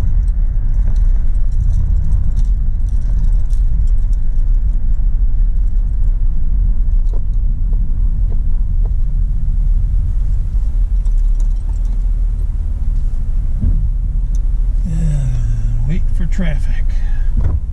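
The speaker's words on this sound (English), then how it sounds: "Traffic." Road traffic passes outside an auto shop on a muggy overcast day, a loud continuous low rumble of vehicles close by, with a voice briefly speaking near the end.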